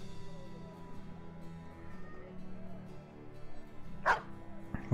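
Dogs in the video game Battle Brothers give one sharp bark late on and a second clipped bark at the very end, over a quiet, steady game background.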